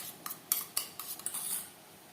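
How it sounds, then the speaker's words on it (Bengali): Eggs with chopped onion, green chilli and salt being beaten in a bowl, a quick run of light metallic taps and clinks from a utensil that trails off after a second and a half. "ডিম বেশ ভালো করে ফেটিয়ে নেব"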